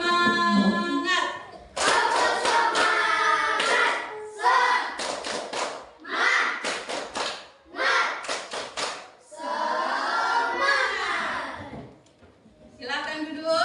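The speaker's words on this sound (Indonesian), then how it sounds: "Tepuk semangat." A classroom of children claps a rhythmic spirit clap together, with loud bursts of group clapping and chanting voices in a repeating pattern, separated by short pauses.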